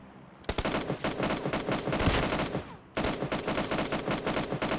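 Rapid bursts of automatic gunfire in the video game PUBG Mobile, loud and close, in two long volleys separated by a brief pause.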